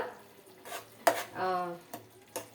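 A utensil clinks and scrapes against a pan while chukkakura dried shrimp curry is stirred, giving a few separate close taps and one longer scraping stroke, with quiet gaps between them and no talking.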